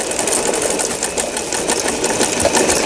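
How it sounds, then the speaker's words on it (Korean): A Brother Boutique 10 household sewing machine, freshly repaired, sews an overlock stitch along a fabric edge, giving a steady, loud, close mechanical whir with fast rhythmic needle chatter throughout. "이제 옷감이 풀리지 않도록 해주는 오버록 바느질."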